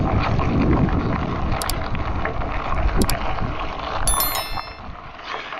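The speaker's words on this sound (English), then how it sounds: "Oh, this wind is crazy out here." Strong wind buffets the microphone outdoors while riding a folding electric trike, a steady roaring rush with faint bell-like ticks and no talking.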